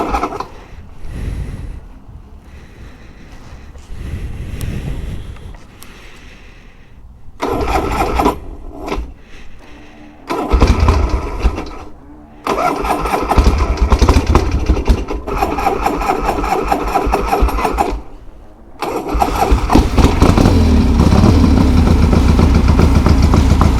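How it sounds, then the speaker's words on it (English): A Harley-Davidson Ironhead motorcycle engine fails to start cleanly with the choke out, cranking and catching in broken loud bursts before settling into a steady, rough idle nearby, with no talking. "The bike doesn't like to start with the choke out, so that's an issue."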